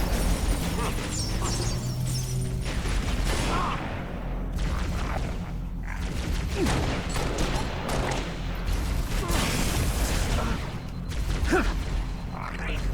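Gunfire in the video game Halo: Reach, a dense, continuous stretch of rapid shots, bursts and mechanical clatter, loud and steady throughout with no clear talk.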